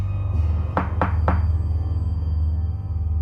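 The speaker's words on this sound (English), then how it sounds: "3 sharp, distinct knocks on the solid wood front door." Three sharp knocks on a solid wood front door, evenly spaced and distinct, heard over a low steady hum in an otherwise quiet room.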